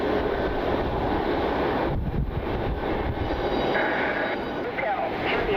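A Frontier airliner departs Cleveland Hopkins airport with a steady, broad engine roar that stays loud throughout, mixed with wind buffeting the microphone and some talk.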